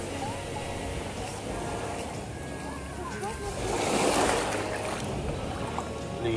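Sea waves at Carlyon Beach in Cornwall wash steadily, with a broader surge swelling near the middle. Voices carry over the surf throughout.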